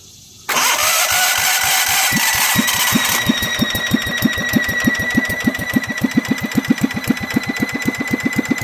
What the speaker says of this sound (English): That noise you're hearing is the torque converter belt.